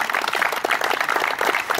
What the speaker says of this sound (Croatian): Molim vas jedan aplauz za njega